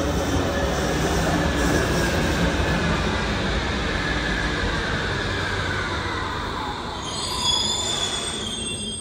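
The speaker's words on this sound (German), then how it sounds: "Nagelneue U-Bahn." A new Berlin U-Bahn subway train rumbles along the tracks with a continuous roar and high wheel squeal, close and loud throughout, a brighter screech rising near the end.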